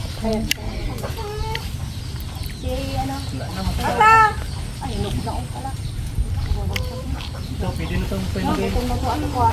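Native chickens cluck and crow amid a noisy farmyard, with a brief louder squawk near the middle, mixed with people talking in the background.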